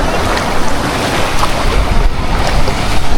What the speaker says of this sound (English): Oh, the waves are big.